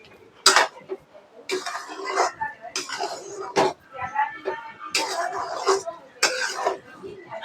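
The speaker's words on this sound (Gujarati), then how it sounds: "હવે આને હા ધીમો છે ગેસ, હલાવ્યા રાખીએ ધીરે ધીરે." Semolina halwa is stirred in a pan over low heat, with irregular metal scrapes and clinks of a spoon against the pan, interrupted by bursts of nearby talking.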